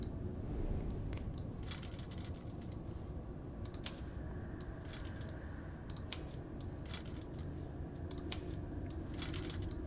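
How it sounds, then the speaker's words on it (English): Typewriter keys clatter in a puzzle game, a steady run of sharp mechanical strikes over a continuous low background hum, with no voices. "do you want to write out voyage on the typewriter?"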